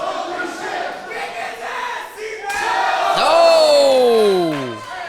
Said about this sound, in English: And the crowd here erupts.